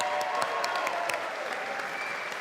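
An audience at a magic performance applauds after a trick, with steady, moderately distant clapping and a few faint cheers, no clear talk.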